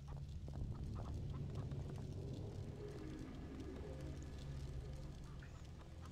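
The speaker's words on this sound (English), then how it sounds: "Oh, I'm definitely hearing chickens." Chickens cluck steadily over a constant low ambient drone in a Tomb Raider Level Editor underground village level, with dense overlapping calls that are moderately loud throughout and no talk.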